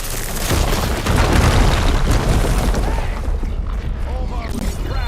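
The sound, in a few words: explosion in the video game Horizon Forbidden West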